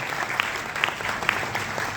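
An audience claps together at a Hindi-language staff programme for Azadi ka Amrit Mahotsav, honouring unsung heroes with a steady, dense patter of hands and a few sharper claps standing out, all at moderate level and with no talk.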